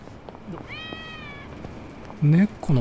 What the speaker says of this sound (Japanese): 猫の鳴き声するけど。